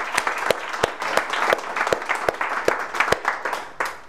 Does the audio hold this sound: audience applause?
yes